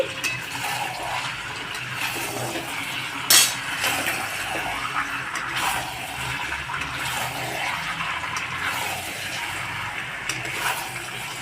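Fried cauliflower florets are stirred around a pan for a roast, with continuous scraping and clinking of a utensil against metal, a sharp clank near the middle, all close and steady.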